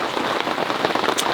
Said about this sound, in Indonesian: Masalahnya sekarang hujan kayak gini